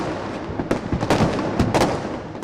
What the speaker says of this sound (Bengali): মুহুর্মুহ আতশবাজি আর পটকার শব্দ বার্তা দিয়েছে পুরাতন বিদায়ের